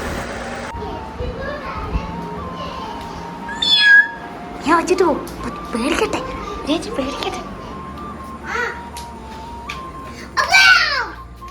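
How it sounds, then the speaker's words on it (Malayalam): A cat meows several times, fairly close and loud, amid children's voices and playful chatter. "ഒരു പൂച്ച"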